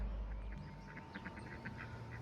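Ducks quack in a quick series of soft calls nearby, under a low background hum.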